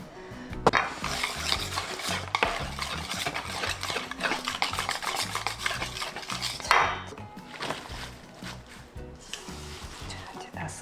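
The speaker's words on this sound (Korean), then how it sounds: "자, 이제 다 섞어줄게요" A spoon clatters and scrapes steadily around a bowl, mixing vegetable pancake batter thinned with water and anchovy fish sauce, with uneven knocks and wet swishes close by.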